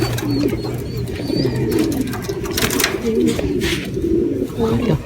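Racing pigeons cooing repeatedly at a loft in soft throaty rolls, with a busy outdoor background and some rustling throughout.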